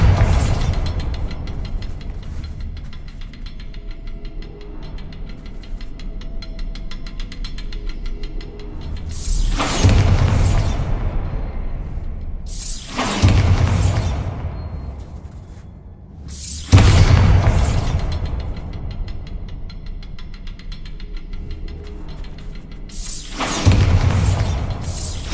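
Repeated Bombarda blasting-spell explosions in a video game land as four heavy booming bursts spaced several seconds apart, each with a sharp loud onset and a low rumbling tail over a steady background hum.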